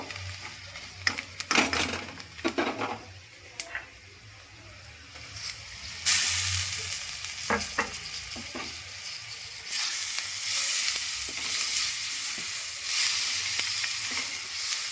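Chopped tomato frying in a pan with a little sugar: irregular clatter and stirring early on, then a broad steady sizzle that swells louder as the pieces hit the hot oil, with no voices.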